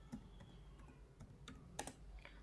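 Soft, sparse taps come from typing on a computer keyboard, with irregular keystrokes and a brief cluster of sharper clicks, faint and close with no talk.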